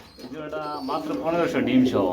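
Pigeons coo in a pair kept for sale, a short run of soft throaty calls close by, with a voice partly mixed in.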